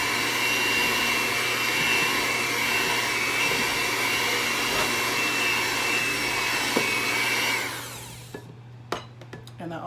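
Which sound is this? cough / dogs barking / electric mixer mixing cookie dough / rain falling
electric mixer mixing cookie dough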